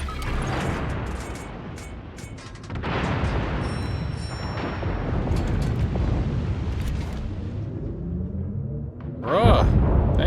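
Warship gunfire and explosions in a naval combat video game rumble steadily with heavy booms and crashes, building to a loud, sharp blast near the end.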